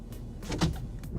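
A car's power window motor hums briefly as the glass slides, a short, close, moderately quiet whir rising and fading within about a second, with no talking.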